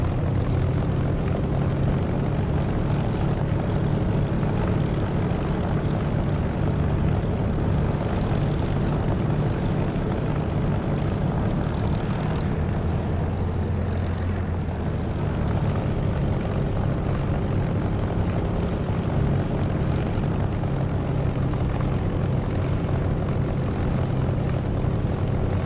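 A propeller aircraft engine drones steadily on the runway in the DCS flight simulator, a loud, continuous hum that stays even throughout, with only a slight dip midway.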